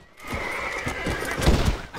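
A horse in the Red Dead Redemption 2 video game whinnies loudly while rearing up, with a shrill drawn-out neigh over the first second and a half, then heavy hoof thuds and clatter close by.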